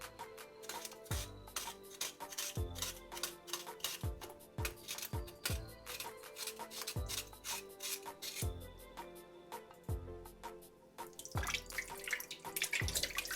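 Cow skin being washed and scrubbed in warm water for a Jamaican punch, wet rubbing and scraping strokes in a steady rhythm with splashes and drips, close and quiet.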